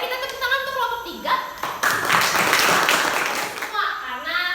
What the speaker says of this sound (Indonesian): boleh kita tepuk tangan untuk kelompok 3?